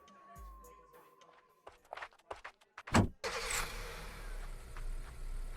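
A car starts up with a short whir, then the engine catches and settles into a rumbling idle. Clicks and thumps come just before it, with some faint background voices.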